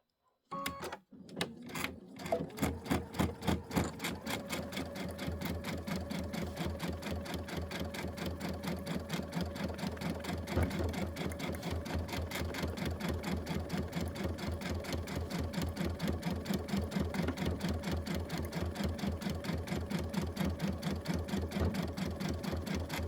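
An OESD embroidery sewing machine stitches an Easter-themed tile with a fast, perfectly regular mechanical chatter that starts after a few clicks and runs steadily and evenly, close and alone, for the whole span.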